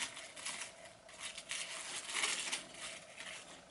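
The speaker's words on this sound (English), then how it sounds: "Just gonna unwrap it." Packaging is unwrapped from a luxury-style fashion item with a strap and buckle, making steady, soft, close crinkling and rustling that rises and falls for several seconds.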